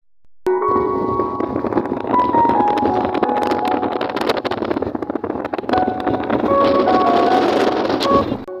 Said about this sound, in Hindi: बहुत ज़्यादा तेज़ हवा चल रही है और ठंडी